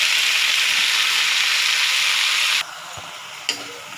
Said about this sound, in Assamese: নহৰু আৰু জলকীয়াখিনি অকণমান ৰঙচুৱাৰ পিছত মই ভাতবোৰ দি দিছোঁ।